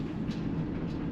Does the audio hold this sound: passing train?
yes